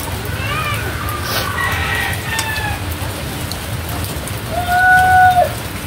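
Steady outdoor rainfall, a dense even hiss close by, with chickens clucking and a rooster crowing in the background and a brief vocal sound near the end.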